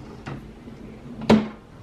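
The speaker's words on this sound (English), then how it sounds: "And then we have this drawer." A desk drawer slides open during a desk declutter, with a faint rub early on and then one sharper wooden knock and slide near the end, close and quiet in an otherwise still room.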